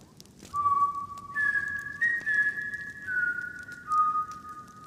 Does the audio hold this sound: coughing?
no